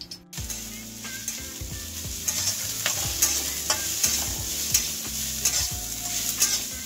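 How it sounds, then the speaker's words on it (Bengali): Onions sizzle steadily in a hot pan while a utensil stirs them in repeated scraping strokes, a close, continuous frying hiss with rhythmic knocks against the pan. "পেঁয়াজটা আগে আমি ভেজে নেব।"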